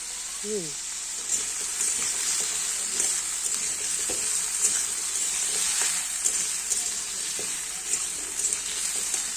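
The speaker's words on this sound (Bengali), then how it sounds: "আমি রান্না করছি পটল দিয়ে বাদাম পটল করছি" Pointed gourd and peanuts sizzle and fry steadily in a pan with a continuous hissing crackle, stirring scrapes occasional, a brief voice early on.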